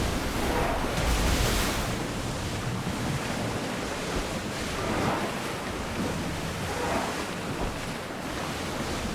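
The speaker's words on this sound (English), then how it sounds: "Feel that wind!" Wind and waves roll steadily at sea aboard an oar-rowed ship in Assassin's Creed Odyssey, a continuous broadband rush of surf and gusting wind that swells at moments, with no voices present.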